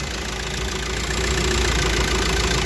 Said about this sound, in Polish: jak słyszycie silnik chodzi ładnie.